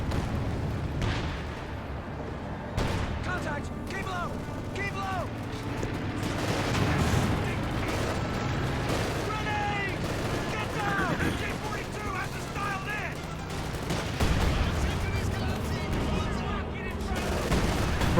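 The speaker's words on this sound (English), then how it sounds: "Here comes Panzer Warfare Barrage" Panzer Warfare artillery barrage in the Company of Heroes strategy game: scattered gunfire, shell blasts and explosions rumble throughout, with a voice speaking over the battle noise.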